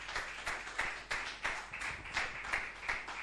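A church congregation claps in praise of Jesus, a regular rhythmic beat of sharp hand claps repeating about three times a second, heard faint and somewhat distant.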